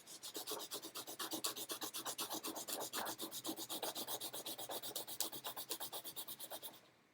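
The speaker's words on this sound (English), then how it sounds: "So when I rub on this one, I can get that word to come off also" Crayon rubbed rapidly back and forth over paper laid on the textured sole of an Adidas shoe, a steady, close, rhythmic scratching of many quick strokes that stops at the end.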